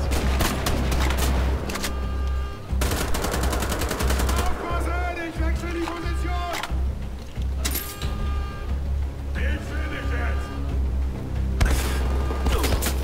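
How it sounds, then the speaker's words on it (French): Sustained Gatling gun fire in the Wolfenstein: The Old Blood video game, loud rapid bursts repeating across the scene with mechanical whirring and booms between volleys. "Il y a un enfoiré, il y a la Gatling là-haut"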